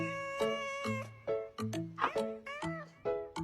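A cat meows over and over in a quick series of short, clear, fairly close calls, some rising and wavering, with no other sound around them.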